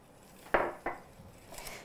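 A whisk knocks against a mixing bowl as cream is worked into a key lime pie filling: a few crisp, close clinks of metal, spaced apart against a quiet kitchen background.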